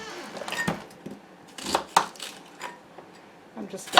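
A knife chops a small onion on a board in a few quiet, irregular strikes, close by and faint, with soft talking between cuts.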